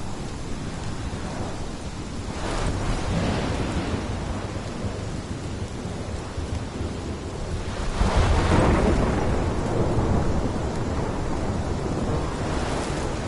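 Rain pours down in a thunderstorm, with heavy rolling thunder swelling twice over the constant roar of the downpour.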